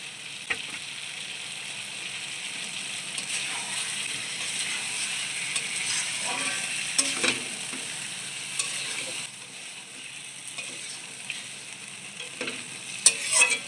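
Sugar is stirred in hot oil, a moderate steady sizzle broken by repeated scraping strokes of a utensil against the pan.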